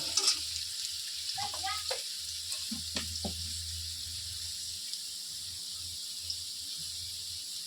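Potatoes frying in a pan with a soft, close sizzle, broken by a few stirring scrapes and clinks early on, then settling into a quiet, even crackle.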